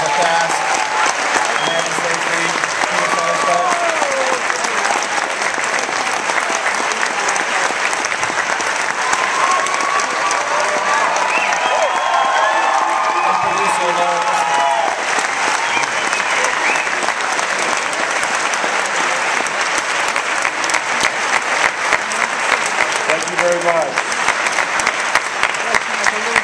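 A theater audience at a Sundance film festival screening breaks into long, sustained applause, dense clapping throughout with scattered cheers and voices rising briefly within it.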